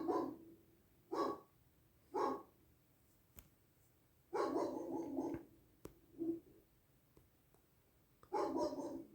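A dog barks in short, sharp bursts, several single and double woofs spread out with gaps between them, moderately distant inside a quiet home.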